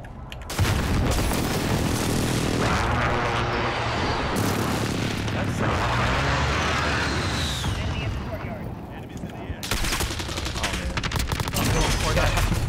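Gunfire and an airstrike in Call of Duty: Modern Warfare come as dense rapid bursts and heavy booming blasts, loud and close, with a radio-style voice speaking over the battle.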